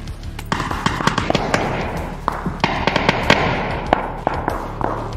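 Gunfire in a solo-versus-squads battle royale match, sharp cracks and thuds arriving from several directions in irregular bursts, some close and loud, others more distant, with no talk over them.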